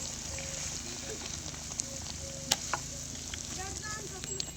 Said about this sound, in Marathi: वांग्याच्या भाजीला फोडणी दिली